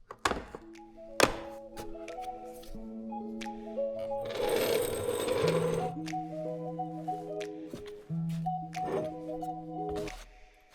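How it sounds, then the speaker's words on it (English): Lug nuts being loosened on a pickup truck carrying a camper, ahead of a tire rotation, with repeated sharp clunks and taps over layered mechanical tones and a longer grinding stretch in the middle, close and moderately loud. "We got the lug nuts loosened on both of the tires"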